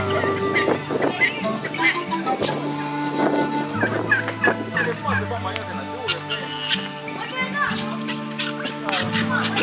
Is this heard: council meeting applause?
no